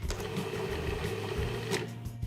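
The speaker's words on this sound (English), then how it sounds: "add the cold butter and pulse until the mixture resembles a coarse meal" A food processor pulses cold butter into pie dough flour, giving a steady mechanical whirring drone at close range with no talk.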